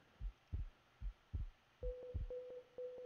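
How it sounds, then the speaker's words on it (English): A video game heartbeat thumps in soft paired beats, then slows as a sustained electronic monitor-like tone cuts in between the last beats, quiet and close. "You can hear their heartbeat stop"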